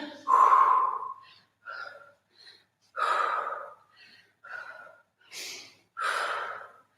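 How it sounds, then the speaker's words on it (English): Hard, heavy breathing from a person mid-workout during a live resistance-band glute session, with loud gasping inhales and exhales in irregular bursts about every second, close to the mic with no talk over it. "I can't count, I'm breathing too hard."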